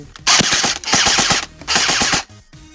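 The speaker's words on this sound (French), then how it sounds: "Alors je vais me mettre en semi-auto puis je vais tirer un peu de partout." An airsoft replica rifle firing in semi-auto, loud close shots in three rapid bursts of sharp cracks with brief pauses between them.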